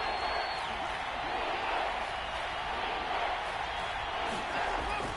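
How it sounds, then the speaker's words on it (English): Stadium crowd at an Eagles versus Lions football game roars steadily ahead of a big third down, a dense, continuous wash of cheering that holds level throughout without a break. "The crowd getting into it as we come up on a big 3rd down."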